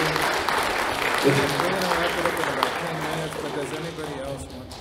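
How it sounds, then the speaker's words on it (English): Applause from a town hall audience at a UFO conference in Edinburg, a steady broadband patter of many hands lasting throughout, with voices mixed underneath. "another round of applause for Timothy"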